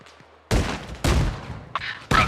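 Frag grenades detonating in the Arma Reforger military game, with three loud booming blasts in quick succession, each rolling out into a rumbling tail, and a sharper crack at the end.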